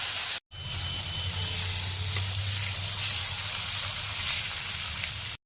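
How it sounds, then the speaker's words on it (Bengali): Paneer cubes fry in hot salted oil in a pan, giving a steady, close sizzle and hiss that runs unbroken for several seconds, with no talking. "তেল গরম হয়ে গেছে, এবার আমি পনিরগুলো দিয়ে দেবো।"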